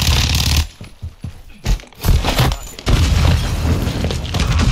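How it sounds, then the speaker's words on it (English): Rocket sniper shot exploding in Warzone 2.0 DMZ, deep booming blasts with a sharp burst and rumbling after, followed by continued low in-game noise. "I got him with a rocket sniper."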